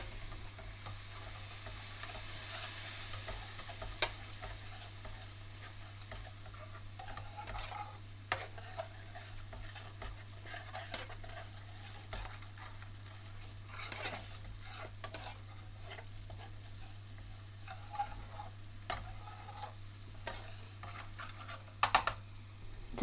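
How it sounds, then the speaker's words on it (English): Vindaloo paste frying in a pan for a British Indian restaurant-style curry, a soft continuous sizzle with scattered scrapes and taps of stirring, low and steady over a faint hum. "Continue to fry for a further minute"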